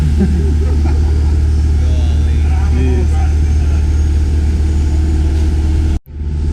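A compound-turbo 5.9 Cummins diesel truck roars on a dyno with a heavy, steady low drone that cuts off abruptly near the end, with voices underneath.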